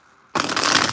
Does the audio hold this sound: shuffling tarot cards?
yes